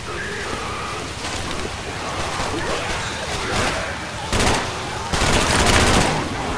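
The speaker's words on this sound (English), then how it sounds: "Can I try this rifle?" Rifle fire in Left 4 Dead 2 crackles through a busy, noisy fight, with sustained bursts of rapid shots growing louder toward the end over constant background din.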